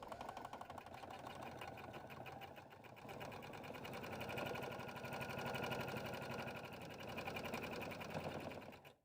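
A sewing machine top stitches along the faux binding of a fabric tote bag, giving a steady, fast mechanical chatter. It is close and continuous, rising briefly in pace before it stops at the end.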